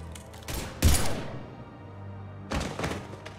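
Gunfire in Mass Effect 3, two loud bursts of rapid shots with echoing thuds, separated by a quieter stretch of ambient game noise.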